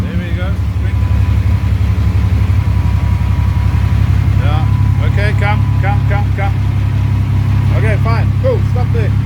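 Engine of a 1938 SS Jaguar 3½ drophead under restoration, running with a loud, steady, even idle throughout, while people talk over it.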